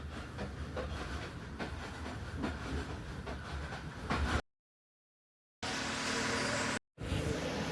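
A train pulling away from Badomali station, a steady broadband rumble of wheels and carriage noise with faint clatter, interrupted by two abrupt silent gaps before the loud rolling resumes.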